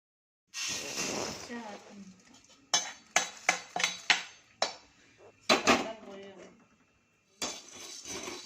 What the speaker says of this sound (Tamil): நூறு கிராம் சீரகத்தை வந்து நம்ம நல்லா வறுத்து எடுத்துக்கணும்.